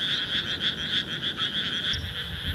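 Frogs calling in a continuous night chorus at about 9 pm in Saitama, Japan: rhythmic, pulsing croaks repeat several times a second at an even, moderately loud level, with no talking.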